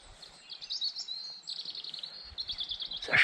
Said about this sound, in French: Les rouges-gorges, les pinsons, troglodytes.